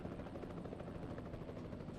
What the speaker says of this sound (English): I was scared I was going to hit the blade of that helicopter.